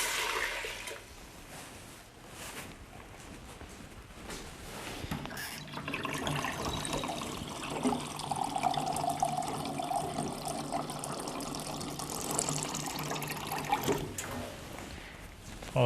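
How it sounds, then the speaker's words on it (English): Water poured into a pot of sweet corn and sweet potato soup as it cooks, a steady splashing, trickling flow that keeps going through the whole stretch, close and moderately loud. "And we'll add 4 cups of water."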